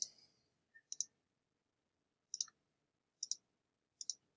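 A computer mouse clicks crisply in close, quiet surroundings during photo retouching in Photoshop. There are about four double-clicks with pauses between them and near silence in the background.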